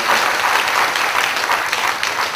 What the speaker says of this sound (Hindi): तालियां मत बजाना बार बार